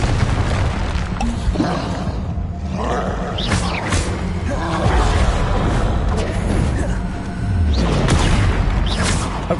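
A Confringo fire spell in Hogwarts Legacy sets off booming blasts and roaring bursts in quick succession amid loud game combat noise, while a voice calls out spell names.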